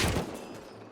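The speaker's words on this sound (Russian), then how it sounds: "Я слышу по ритму стрельбы." Rapid gunfire in the survival video game Rust, a loud close burst at the start that fades into a ringing, echoing tail over about a second.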